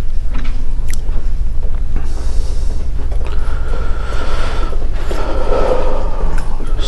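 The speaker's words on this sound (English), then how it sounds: "See if that door's going to bang." An indoor door on a slow closer drags shut with a long, low mechanical creak, loud and close, with no talk over it.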